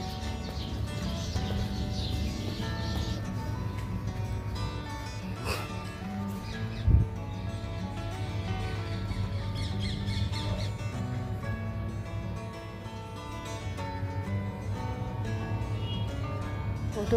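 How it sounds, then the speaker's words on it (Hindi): Morning birds squawk and chirp around a palace in Jodhpur, calls scattered over a steady low hum, with a brief sharp knock midway and no talk. "सुबह तो बड़ी सुंदर चिड़ियों की चहचहाहट के साथ सुबह हो रही है।"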